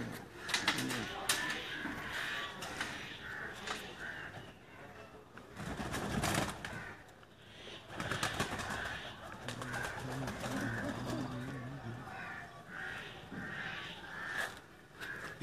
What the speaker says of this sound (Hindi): ये वो लाखे कबूतर हैं